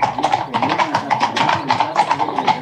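Horse hooves clip-clop on the Camino trail in Galicia, Spain, in a steady, close, loud rhythm of repeated strikes, without talk over them.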